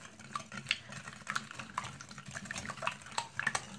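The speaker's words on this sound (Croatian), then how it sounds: "I sad ćemo fino sad to sve izmutiti." Batter for a homemade apple kuglof stirred by hand in a bowl, a quiet, busy run of soft scraping and light clinking strokes, close and continuous.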